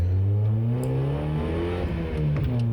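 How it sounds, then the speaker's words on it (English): Mazda MX5 with a twin cam 1600 engine racing at Oulton Park, a continuous in-car engine drone revving and shifting pitch as it pulls through gears, loud and close, no talk. "Such a sweet little motor. Little twin cam 1600."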